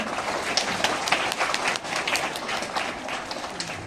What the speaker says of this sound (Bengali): করতালি কই